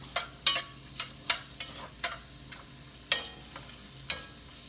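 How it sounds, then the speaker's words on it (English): Sausage cooking in a frying pan gives a soft steady sizzle under a series of sharp scraping clicks and taps at uneven intervals, close up with no talk. "So your sausage is simmering."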